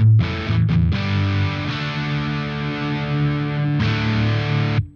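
An electric guitar plays through a PastFx Mischief RAT distortion pedal at its stock setting, a thick, saturated, sustained distorted chord with a brief break near the start and a fresh strum near the end, no voices.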